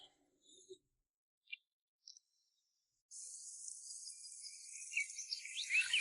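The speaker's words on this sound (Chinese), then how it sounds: "现在已经正式进入夏季，户外的鸟声、蝉鸣、溪流声，不断地释放着一种天然的快乐" Summer cicadas buzz in a continuous high, shrill drone by a mountain stream in Guizhou, starting suddenly after a few faint scattered clicks and quiet moments.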